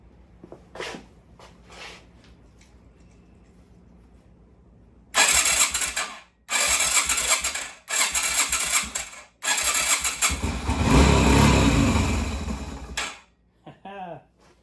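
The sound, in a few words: Yamaha Virago XV250 V-twin motorcycle engine starting and running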